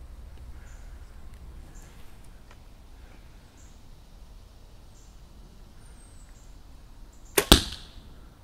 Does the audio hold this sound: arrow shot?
yes